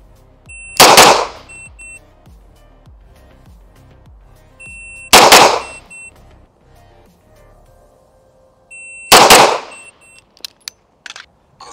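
Three loud pistol shots fired during a shooting drill, each a sharp crack spaced about four seconds apart with a ringing tail, followed by a few faint clinks near the end.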